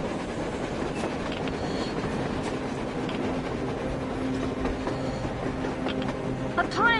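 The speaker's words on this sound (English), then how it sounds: "A train! A damn train on the surface!" A train rolls past in the video game Metro Exodus, a steady rumbling clatter of rail cars filling the whole clip, with a brief sharper squeal near the end.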